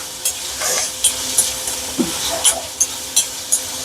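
Cumin seeds frying in hot oil until they brown, a close, bright crackling sizzle with repeated quick stirring scrapes and small pops throughout, no talking.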